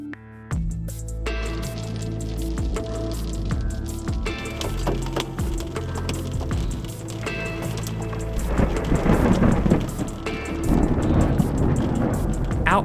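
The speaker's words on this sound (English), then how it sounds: "The storms I'm watching are intensifying over I-25 near Wagon Mound, New Mexico" A monsoon thunderstorm over I-25 near Wagon Mound, New Mexico: steady rain and rumbling thunder fill the air continuously, with the rain growing heavier and louder toward the end.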